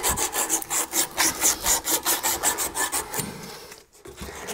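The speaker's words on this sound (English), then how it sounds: "the other tool I like to use is this sanding cloth or emery cloth" Rhythmic rasping strokes of emery cloth rubbing back and forth on copper pipe, about a dozen even passes, then slowing and stopping.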